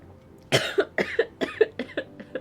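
A person coughs in a quick series of about seven harsh, close bursts, fading slightly toward the end.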